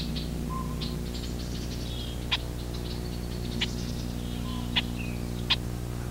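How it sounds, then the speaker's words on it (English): Red-winged blackbirds give sharp, repeated mobbing calls at a crow, short clicks and chips spaced a second or so apart over a steady low mechanical hum. "this rare film of a crow being mobbed by red wings"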